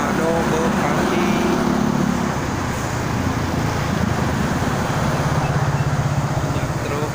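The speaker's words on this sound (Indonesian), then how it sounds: "Banyak truk angkutan barang." Heavy road traffic on a Jakarta toll road with many freight trucks, a steady loud roar of engines and tyres rolling past throughout, with someone talking over it.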